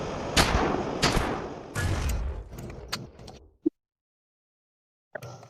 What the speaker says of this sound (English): I will demonstrate the HE shell in this.